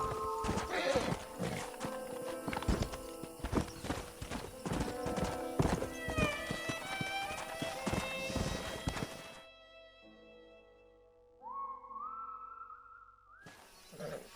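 Horses in Red Dead Redemption clip-clop in dense, rapid hoofbeats with a whinny rising over them, the herd loud and close; the hooves cut off abruptly, leaving a quieter stretch with a faint sustained tone.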